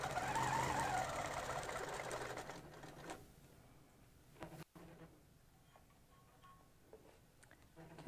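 Embroidery sewing machine with a small accessory stitching out a design, a rapid mechanical whirring for the first few seconds, then quieter intermittent ticking and clicks.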